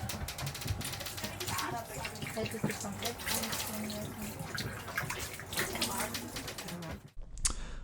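Salt water splashes onto a face in quick, close, busy bursts of dripping and slapping for several seconds, ending abruptly.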